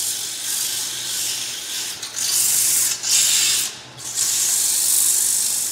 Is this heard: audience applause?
no